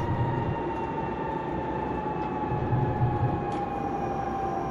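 Steady, loud rumble of a train under hard braking in Train Simulator Classic on the Payerbach to Vienna main station route, with a sustained tonal whine over continuous rolling noise and no talk.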